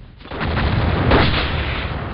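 A giant grenade in a video game goes off as a loud, close, sustained blast, roaring and rumbling for about two seconds with no voices over it.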